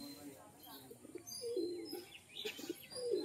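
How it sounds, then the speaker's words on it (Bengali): Pigeons coo and chirp in a loft while people talk nearby. The low cooing calls rise and fall in short phrases, with occasional brighter chirps. The voices sit alongside the birds at a moderate, fairly quiet level. "দেখুন পায়রাগুলো।"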